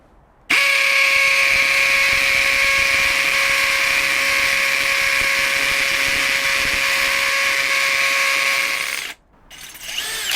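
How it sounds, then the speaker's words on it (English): A Milwaukee M18 hammer drill/driver (2904) drills into concrete, whining loudly and steadily for about nine seconds with a harsh buzzing rattle, then cuts off abruptly. "I've put the drill on hammer drill, and let's see what it can do drilling in concrete."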